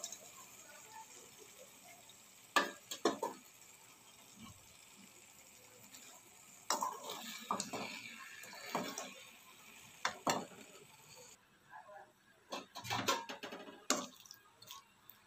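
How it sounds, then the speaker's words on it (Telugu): Capsicum stirred into cooked onion and tomato in a pan, with faint sizzling and scattered scrapes and clinks of a spoon against the pan in irregular bursts. "ఇప్పుడు క్యాప్సికమ్ యాడ్ చేస్తున్నాను."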